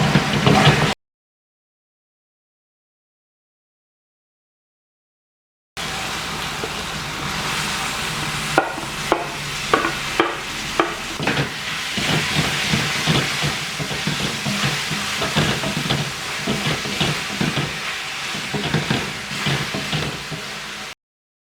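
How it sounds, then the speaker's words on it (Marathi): Spice paste for a dhaba-style mixed vegetable curry frying in a kadai, with a steady close sizzle and scattered stirring scrapes. It runs continuously after a brief gap of silence near the start. "तर 1-2 मिनटं ही पेस्ट भाजतो, कच्चपण तिचा नाहीसा होईल."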